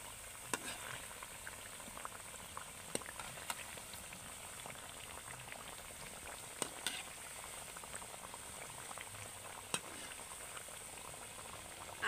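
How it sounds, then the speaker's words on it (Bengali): Crisp wheat flour biscuits frying in oil make a soft, steady bubbling hiss with occasional faint ticks and pops, quiet and continuous throughout. "উল্টে পাল্টে কিন্তু দুটো দিক ভালো করে একদম মুচমুচে করে ভেজে নিতে হবে"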